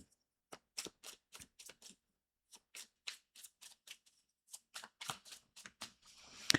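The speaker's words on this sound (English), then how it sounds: "as I'm shuffling this deck, waiting for cards to come out" Tarot cards being shuffled by hand, a run of crisp, close riffling bursts in an irregular rhythm with short gaps between them, alone and with no talking, growing denser and louder toward the end.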